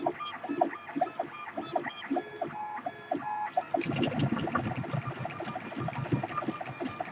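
A high-speed 3D printer prints a 40mm calibration cube, its stepper motors whining and chirping in rapid, shifting tones with busy rattling movement, growing denser and louder partway through.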